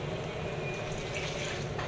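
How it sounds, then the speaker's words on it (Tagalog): A glass of water poured into a pot of simmering chicken feet adobo, a steady watery splash and trickle filling the short moment up close, with no talking. "lagyan natin na isang basong tubig guys"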